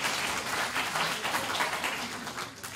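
A theatre audience gives dense, continuous applause, a steady wash of many hands clapping at once that stays loud and fairly close throughout.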